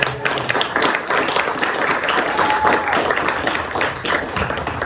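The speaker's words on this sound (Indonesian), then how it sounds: "tepuk tangan buat kalian" Continuous loud applause from a crowd fills the room at the closing ceremony of an Islamic holiday school program before Eid, a dense, steady clapping with faint voices mixed in.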